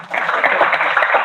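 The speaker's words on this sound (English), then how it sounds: "You can clap now, please." An audience claps steadily through a brief burst of applause, moderately loud, with no speech on top.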